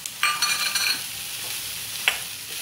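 Khoya and powdered sugar filling roasts in a pan with a soft, steady sizzle, broken by a few spoon scrapes and stirring clicks, close and alone.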